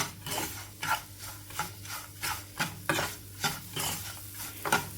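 Sugar being stirred into a sweet coconut filling cooking in a pan, a spoon scraping and rubbing against the pan in a steady back-and-forth rhythm, moderately loud and close, with no talking.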